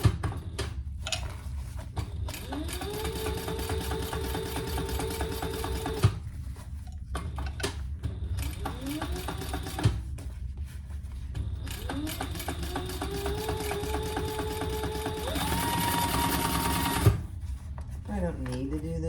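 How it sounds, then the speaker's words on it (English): A sewing machine runs a second row of stitches on a small piece, its rapid steady needle clatter continuing in long runs with brief pauses, loud and close, while a person talks over it. "Give it a second row of stitches."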